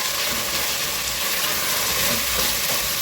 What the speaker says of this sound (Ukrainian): Все обсмажую